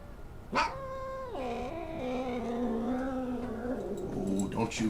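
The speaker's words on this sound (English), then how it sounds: "don't you growl at your kittens" A cat growls in a long, rising and falling tonal whine lasting several seconds, close and fairly loud, with a softer snarl trailing off at the end.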